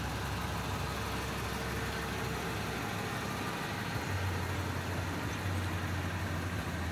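A 2008 Toyota Tundra four-wheel-drive pickup with a 5.7 liter engine idles steadily at a dealer lot, a continuous low engine rumble with a slight shift in tone partway through, with no talking.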